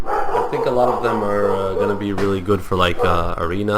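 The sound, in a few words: dog barking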